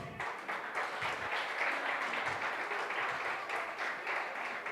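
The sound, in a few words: applause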